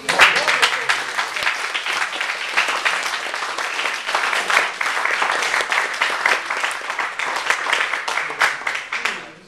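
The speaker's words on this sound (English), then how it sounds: "A round of applause" A round of applause from an audience at a local candidates' event in Barkingside: dense, lively clapping from many hands, loud and sustained, swelling and tapering near the end.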